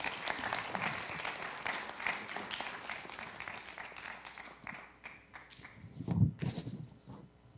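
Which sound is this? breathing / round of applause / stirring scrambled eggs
round of applause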